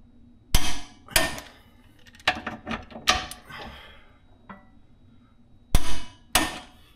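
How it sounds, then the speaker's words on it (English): Sharp metallic knocks and clanks ring out while a wrench tightens 18mm exhaust bolts on a 2024 Mini Cooper Clubman JCW with a Dinan exhaust, coming in irregular close hits with pauses between them. "we're going to torque these bolts here and these ones here and just make sure that everything is nice and tight"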